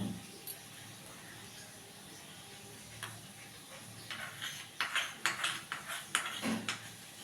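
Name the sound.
stirring frying spices and sauces in a pan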